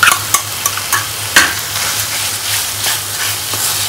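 Khoya being stirred into an orange-tinted pumpkin barfi mixture in a pan: close scraping and stirring strokes with a few sharp clacks early on, over a steady soft sizzle.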